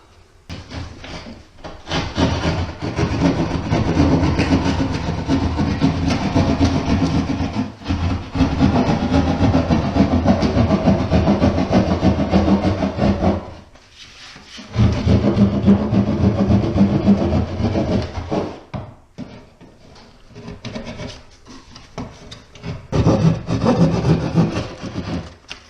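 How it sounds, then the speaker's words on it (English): A saw cuts through a wall during a repair, loud rough rasping strokes in long sustained bursts broken by short pauses, close by with no talking. "I'm going to go ahead and finish cutting through this"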